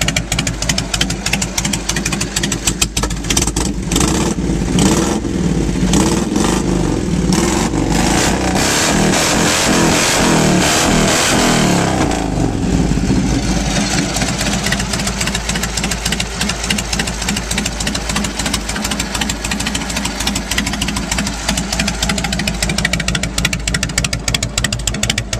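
A 1998 Harley-Davidson Heritage Softail Springer engine runs loud and steady close by, idling with a knocking throb, then revving up and settling back to a continuous rumble.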